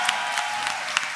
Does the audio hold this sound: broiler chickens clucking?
no